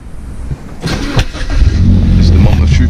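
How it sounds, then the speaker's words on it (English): A BMW 1 Series E87 hatchback engine cranks briefly and catches, then settles into a steady close idle. "Time to turn the car on and see if it works."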